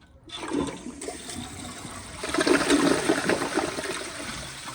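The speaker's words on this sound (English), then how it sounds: "here is a flush" A Kohler Highline round-bowl toilet from 2022 flushes close by, a sudden rush of water that swells and churns steadily for several seconds before starting to ease, with no talking over it.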